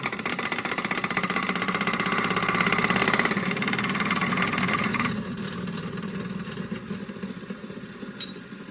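Hand-cranked IH cream separator, heavy and highly geared, whirs and rattles as it is turned faster and builds speed, a dense mechanical drone that drops quieter after a few seconds, with faint clicks near the end.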